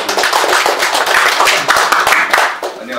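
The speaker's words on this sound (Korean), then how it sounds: "큰 박수 부탁드립니다." An audience at a Korean seminar marking the Cheonan sinking anniversary bursts into loud, dense applause that stays steady for the few seconds of the clip.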